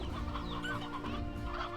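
Chickens clucking in the video game Slime Rancher 2, several overlapping clucks from a flock in a continuous busy chatter, close and moderately loud.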